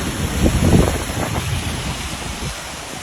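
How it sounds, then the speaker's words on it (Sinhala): Rushing flood water during major flooding in Sri Lanka, near a damaged bridge, roars in a broad steady wash with buffeting wind against the microphone. "හොඳම වතුර පාරක් මේ යන්නේ මෙතනින් එහාට"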